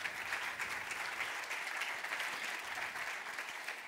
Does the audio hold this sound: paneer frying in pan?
no